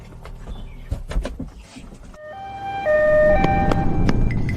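An ambulance siren starts partway through, cycling between steady alternating tones and growing louder over a rumble of traffic and street noise.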